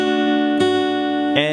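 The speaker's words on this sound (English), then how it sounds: "Then I'll do a percussive hit" Acoustic guitar strings are struck percussively in a strumming pattern: a chord rings out, then two sharp broadband hits cut across it, the second bringing a brighter ringing chord, close and alone.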